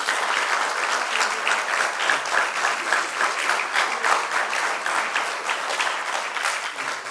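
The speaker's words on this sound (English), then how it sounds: "let's give the participants another round of applause" An audience at an oratorical contest gives the participants a steady round of clapping, a dense, even wash of many hands sustained throughout without a break.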